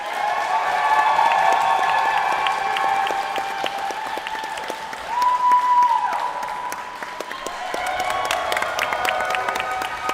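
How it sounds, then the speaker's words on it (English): A large crowd applauds and cheers at an open longsword tournament's elimination rounds, with sustained, loud clapping throughout, a brief rise midway, and a faint tonal whistle or ring cutting through. "And the crowd goes wild."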